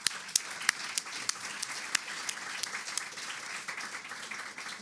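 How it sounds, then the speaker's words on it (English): Audience applauding at the close of a panel session on counterterrorism and transitional justice, a moderate, somewhat distant patter of many hands with a few sharp, nearby claps standing out. "giving them a round of applause."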